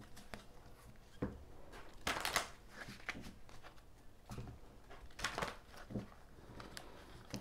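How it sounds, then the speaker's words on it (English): Tarot cards being shuffled by hand, quiet papery riffles and soft slaps coming in irregular bursts, close and faint with no voices. "Just a little more shuffling."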